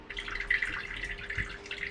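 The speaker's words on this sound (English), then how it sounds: "this is a water fountain that I got from Amazon. It's got a nice sound to it." A small water fountain in a backyard greenhouse trickles continuously, a soft bubbling splash with light dripping detail, fairly quiet and close, with no voices.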